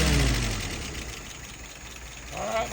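Properly tuned carburetted car engine revving smoothly without stumbling, loud at first, easing back to a lower drone, then climbing again at the end, close by.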